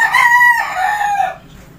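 A young rooster, a stag from a backyard flock of gamefowl, crows once in a loud, close, drawn-out call that rises and then trails off, with no talking over it.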